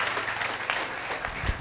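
A church congregation claps for the Lord during a prophetic service, a brief soft wash of applause at a distance.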